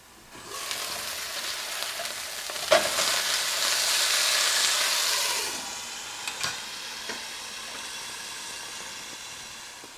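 Steak searing in a frying pan, a broad, steady hiss of sizzling fat that swells and then eases, with a few sharp pops and clanks, close up and without voices.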